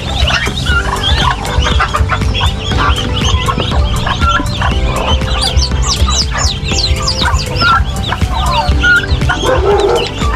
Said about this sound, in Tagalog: Dito po, mayroon pong naglilimlim na pabo.